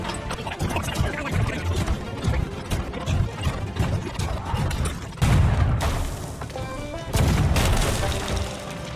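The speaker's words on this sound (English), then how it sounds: "Fire the cannons! Fire everything!" Cannon fire in the pirate video game A Pirate's Life, a barrage of heavy booms and blasts over rumbling battle noise, with two especially loud explosions near the end.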